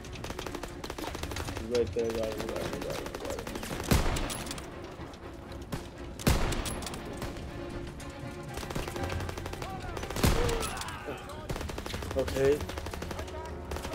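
Gunfire in Call of Duty: WWII, a World War II shooter, with bursts of rifle and machine-gun shots and several loud blasts through the stretch, under brief player talk.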